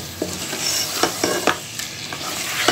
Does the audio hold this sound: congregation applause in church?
no